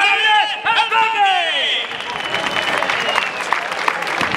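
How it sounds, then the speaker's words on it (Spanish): Crowd applause for the bullfighters at a recortes contest in Aldeadávila, Spain, a steady wash of clapping and cheering that rises after an amplified announcer's voice fades. "Fuerte el aplauso para estos cuatro toreros en cuerpo limpio y mucha suerte."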